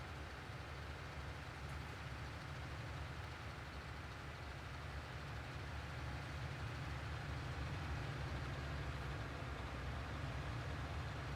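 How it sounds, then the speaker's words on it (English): A tractor engine in a multiplayer farming simulator game gives a steady, low, droning rumble that holds at an even level for the whole stretch, with no talking over it. "So it's the tractor slowing down."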